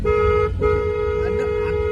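A car horn sounds in a near, steady blast during a driving lesson, cutting out briefly and then holding on alone over the low hum of the engine.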